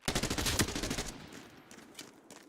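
Rapid automatic gunfire in a video game rattles out in a loud, dense burst for about a second, then trails off into a fading echo with a few scattered, quieter shots.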